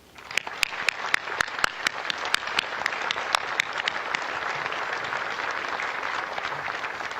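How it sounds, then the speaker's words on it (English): An audience applauds World War II veterans at a Pearl Harbor Remembrance Day event, starting with sharp individual claps and settling into a sustained, moderately loud round of clapping. "it deserves another round of applause"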